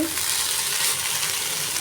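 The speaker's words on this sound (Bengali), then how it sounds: "তেলের ওপর আলু ভাজি কাঁচা লঙ্কা আর পাঁচ ফোড়ন দিয়ে" Potatoes fry in oil with green chili and panch phoron, giving a close, even, crackling sizzle that holds steady for a couple of seconds with no talk.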